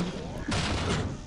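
A grenade explodes in the arena shooter Quake Live, a short, loud burst of game gunfire and a blast thump in quick succession, heard close within gameplay audio.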